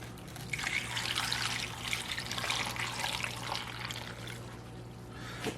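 Poland Spring bottled water pours steadily from a bottle into a pot for broth, a continuous close trickle and splash lasting several seconds with a faint hum underneath.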